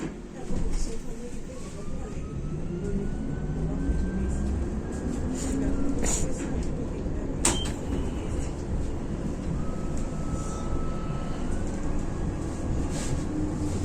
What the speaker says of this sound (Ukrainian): Тут проїжджає трамвай в тунелі через житловий будинок.